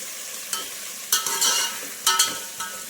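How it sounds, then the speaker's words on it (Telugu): Whole spices and shahi jeera sizzling in hot oil while being stirred, a steady close frying hiss with a few sharper scrapes of the spoon against the pan. "ఇవన్నీ వేసుకున్నాక ఒకసారి కలుపుకోండి, మిక్స్ చేయండి."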